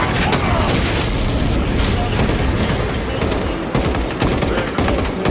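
Dense, continuous enemy gunfire and booming blasts in a Warhammer Space Marine battle against Terminators, loud and sustained throughout, with game voices talking over it.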